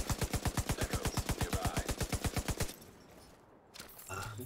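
Automatic gunfire in The Division game, a rapid, evenly spaced burst of about twenty-five loud shots that stops abruptly, followed by quieter background sound.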